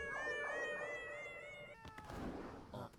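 A cat meows several times in quick succession in an anime episode of The Summer Hikaru Died, the cries clear and fairly close, followed by brief rustling and a short thump near the end.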